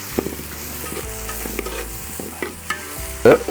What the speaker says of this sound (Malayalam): പച്ചമുളകും അതിനകത്ത് നമ്മൾ ചാലിച്ച് വെച്ച ഇഞ്ചി അത് അതും കൊടുത്ത് ഇളക്കി കൊടുക്കും